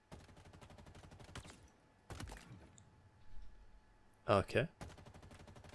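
An assault rifle in Halo Infinite fires rapid automatic bursts of sharp cracks between short pauses. A voice speaks briefly, and a loud impact or blast comes near the end.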